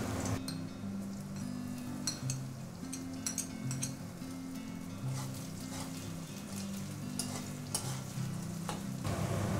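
Onion and ginger-garlic paste fry in a pan for a Bengali pointed gourd curry, a steady close sizzle broken by the scrape and clink of a spoon stirring against the metal, with no voices.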